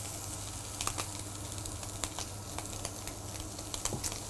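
Meat searing in hot oil in a pan gives a steady, moderate sizzle with faint crackles and pops, no voices.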